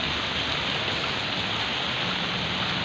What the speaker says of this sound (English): What a rain.